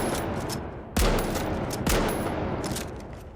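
Two heavy, booming gunshots from a new large-round weapon in the video game The Finals, spaced about a second apart and ringing out over a noisy game soundscape, with no talking.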